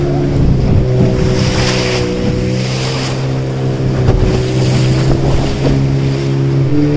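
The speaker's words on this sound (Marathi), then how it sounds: "नदीत बोटिंग सोपं होतं आणि समुद्रात लाटा जास्त आहेत." A motorboat running on the open sea off Devbag near Tarkarli, Malvan, with a steady droning engine, rushing waves and wind buffeting the microphone throughout.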